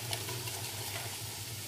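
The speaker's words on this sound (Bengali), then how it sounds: "গাজরটাও ভাজা হয়ে আসছে" Carrot pieces frying in a pan for chicken mince khichuri, giving a steady close sizzle with light crackling pops that continues evenly without any voices.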